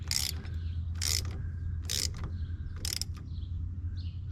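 Wrench ratcheting as bolts are tightened on a Polaris Ranger brake, four bursts of clicking spaced about a second apart over a steady low hum.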